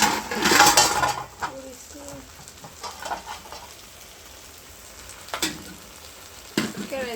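Okra frying in a home kitchen pan, a soft sizzle with scattered clinks of a spatula or utensil against the pan and a few louder stirring scrapes, faint background voices now and then.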